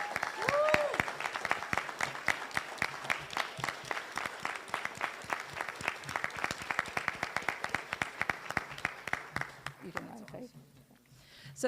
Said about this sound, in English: stand up and let's give everybody a big round of applause